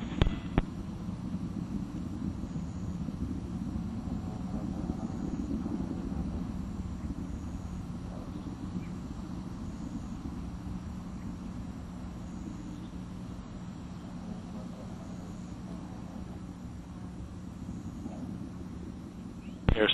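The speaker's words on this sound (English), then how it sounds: "Air start solid motors continue to burn well." A Delta II rocket's air-start solid motors burn during ascent on the launch of NASA's Dawn asteroid explorer, a steady, deep broadband roar that rumbles on without a break.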